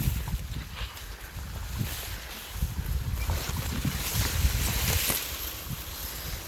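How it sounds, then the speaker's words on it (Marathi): Water rushes steadily near a dam beside a farm field, a broad continuous roar mixed with gusty wind buffeting outdoors. "पाण्याचा आवाज येतोय."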